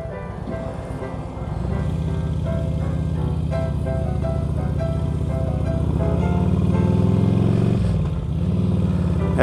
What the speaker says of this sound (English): Has the Screaming Eagle exhaust, gives it a nice little note